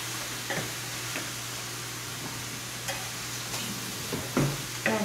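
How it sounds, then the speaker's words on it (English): Four small onions fry in hot, spattering oil for a vegetarian pasta, producing a steady, fairly quiet sizzle over a low hum, with a few sharp ticks and pops scattered throughout; no one speaks. "So I'm going to put the onions in."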